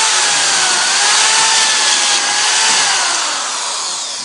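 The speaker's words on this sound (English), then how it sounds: "So just take it easy with the drill, like just do a little at a time." A power drill bores pocket holes through a Kreg pocket jig, a loud, close, continuous whine with shifting pitch, swelling slightly midway and easing off toward the end, with no voices.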